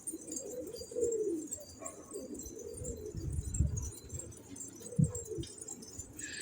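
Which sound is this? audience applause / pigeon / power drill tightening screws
pigeon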